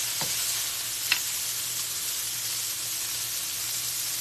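Broccoli stir-fries in a Tasty brand wok, giving a steady bright hiss of sizzling with a couple of sharp stirring clicks near the start, no voices.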